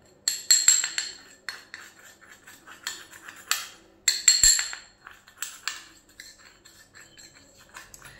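Henna paste is poured and scraped from one bowl into another, giving intermittent soft clinks and scraping strokes close by, faint and irregular, with no talking.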